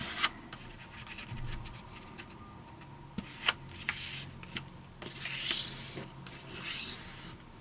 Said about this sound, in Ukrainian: Тепер в іншу сторону складаємо листок з кута в кут.